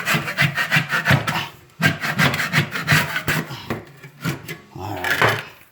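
Dried backsplash glue is scraped off a kitchen countertop in rapid back-and-forth strokes, a rough rasping scrape in bursts with short pauses, close up, with a voice talking over part of it.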